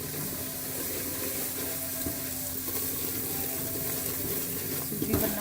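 Semolina (suji) roasting in ghee in a pan for halwa gives a steady, close, moderately loud sizzle and frying hiss with faint stirring scrapes throughout.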